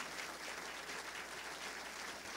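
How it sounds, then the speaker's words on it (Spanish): A gathered audience applauds the family of the teacher Magdaleno Gutiérrez; steady, dense clapping continues evenly throughout without a break, with no voices standing out. "vamos a darles un aplauso"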